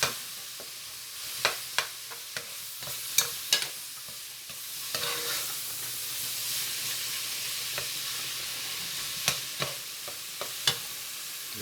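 Meat sauce for spaghetti simmering in a pot, with a soft continuous sizzle under a scattering of sharp spoon clinks and scrapes against the pot, loudest in the first few seconds and again near the end; no talking.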